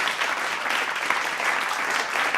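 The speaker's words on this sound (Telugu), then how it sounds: "ఒకసారి తను గట్టిగా చప్పట్లు కొట్టండి." A studio audience claps for a performer on a game show stage, a steady, dense burst of applause running close and loud throughout.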